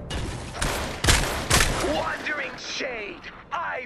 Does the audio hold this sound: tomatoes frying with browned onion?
no